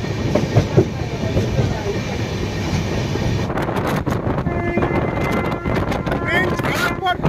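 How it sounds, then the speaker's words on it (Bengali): Kumbh Express from Howrah to Haridwar gathering speed near Dankuni, heard from on board as a loud, steady rumble with wheel clatter and wind buffeting, with faint voices beneath. "ট্রেন ফাইনালি আমাদের স্পিড তোলা শুরু করে দিয়েছে"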